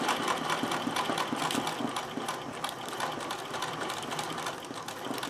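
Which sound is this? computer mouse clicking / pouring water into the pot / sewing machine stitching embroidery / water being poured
sewing machine stitching embroidery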